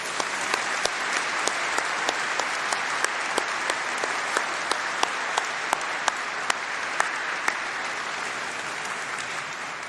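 Graduation ceremony audience applauding steadily for about ten seconds, a broad continuous roar of many hands in a large hall with occasional sharper individual claps standing out.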